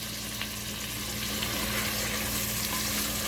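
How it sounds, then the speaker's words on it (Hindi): Potato pieces fry with mutton in a pan for aloo gosht, giving a steady, close, dense sizzle with occasional stirring and no voices. "इसको भी साथ ही हम फ्राई कर लेंगे, आलूओं को गोश्त के साथ"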